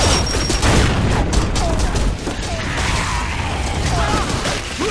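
A frag grenade going off in Gears of War 3 online play, a loud blast and clatter among rapid mechanical bursts and gunfire, with game voices calling out over it.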